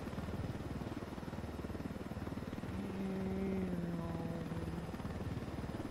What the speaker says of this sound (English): I just did a 360 with a helicopter